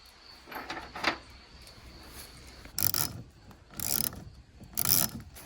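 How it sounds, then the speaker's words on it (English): Ratchet straps being cranked tight while hanging a Big Game Captain treestand outdoors, heard as three close, loud bursts of rough ratcheting clicks separated by pauses, with fainter earlier ratchet strokes. "my brother's gonna finish up tightening the straps"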